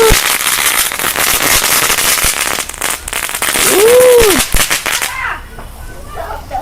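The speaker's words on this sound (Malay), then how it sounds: "Jom kita bakar lagi satu mercun." A long string of firecrackers crackles in dense, loud rapid bursts during Hari Raya celebrations at a FELDA settlement. A rising whistle sounds near the end, the popping then stops, and faint voices remain.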